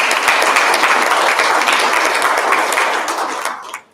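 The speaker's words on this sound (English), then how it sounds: "it deserves a round of applause." An audience at a company road show event in Penticton, BC claps loudly and steadily, a dense burst of applause that holds for about three seconds before quickly tapering off.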